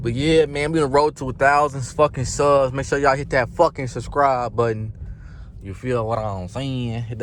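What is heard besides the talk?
None of the usual background noises is heard.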